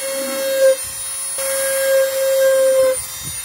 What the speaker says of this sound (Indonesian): Lubangi terminal dan jerigen pakai mini grinder.